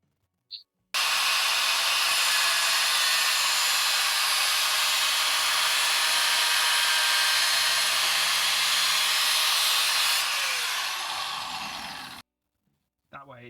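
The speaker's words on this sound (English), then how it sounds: "Now I just run like a score mark down with my grinder." An angle grinder scores a cut line into sheet metal for a Mustang model build, making a loud, continuous high-pitched whine and hiss that runs about eleven seconds before stopping abruptly.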